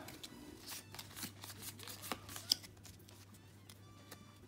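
Crinkly foil rustling and crisp card-handling sounds from a Pokémon Unbroken Bonds booster pack being opened, quiet and close, with a steady low hum underneath and no talking.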